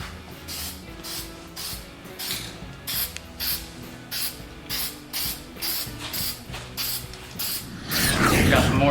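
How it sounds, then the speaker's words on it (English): Spray paint hisses in a rapid series of short bursts onto small engine parts and a cylinder head from a Sears Custom 10XL, with faint mechanical rattles between the bursts and a longer, louder hiss at the end. "Spray paint some little ones and this head"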